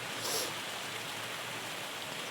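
Steady rain hisses evenly and densely, with a brief louder swell near the start and no voices.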